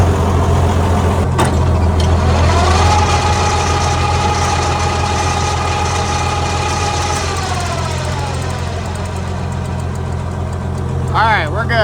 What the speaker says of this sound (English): I'm gonna hop up here and fire this up and actually turn the disc bind on.